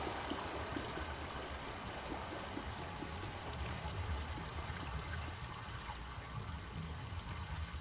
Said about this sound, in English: Yeah, that sounds like running water.